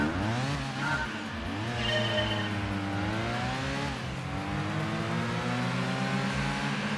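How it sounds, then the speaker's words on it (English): Cheesy synthetic engine note of a four-wheel-drive car in Gran Turismo 2, droning loud and close, with revs rising and dipping in waves and a brief tire squeal. No talking. "What is this cheesy engine sound?"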